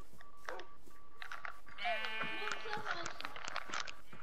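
A Minecraft sheep bleats nearby, a wavering cry lasting a couple of seconds, set against soft background sounds and light ambient noise.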